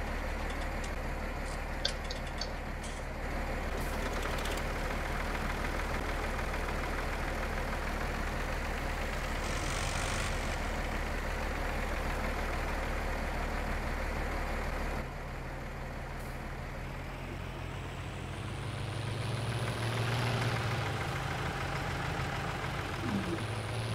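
A modified Arjun 605 tractor with a trolley and ripper idles steadily in Farming Simulator 19, giving a continuous low engine drone with slight shifts in tone partway through and a faint voice now and then.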